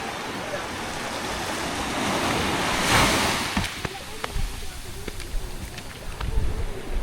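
Strong waves roll in at a beach as evening falls, a broad wash of surf swelling and receding under wind noise, with scattered knocks and faint voices nearby.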